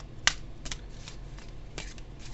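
Law of Attraction oracle cards shuffled for a tarot reading, a few short crisp riffling snaps and soft flicks up close in a quiet room, with no speech.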